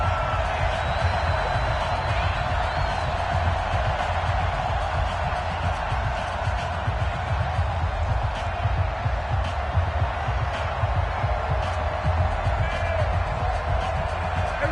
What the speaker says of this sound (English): Here comes a big one as this crowd gets up making some noise.